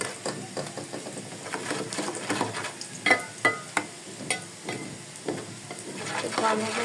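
Spice paste sizzles in a pan for a catfish curry while a spoon stirs and taps it in uneven bursts, close up and moderately loud, with no one speaking.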